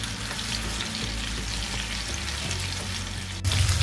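Tandoori chicken fries in butter in a pan, a dense, continuous, close sizzle and crackle that swells slightly louder near the end, with no voices.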